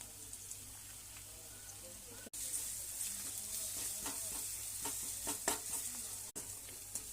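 Ginger garlic paste frying in a pan, a continuous soft sizzle with scattered crackles and occasional stirring scrapes, fairly faint and close.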